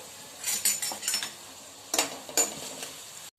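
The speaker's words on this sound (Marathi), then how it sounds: "आपला कांदा बघा छान परतले चाललाय" Chopped onion frying in a pan while being stirred, with bursts of metal spoon scraping against the pan over a low, steady sizzle, close up and in short irregular clusters.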